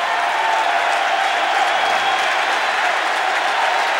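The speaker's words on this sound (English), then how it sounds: "The fans are on their feet. They haven't finished cheering yet." A baseball crowd at a 1996 playoff game in Baltimore cheers after a home run. The loud, sustained roar and applause fill the whole stretch without a break.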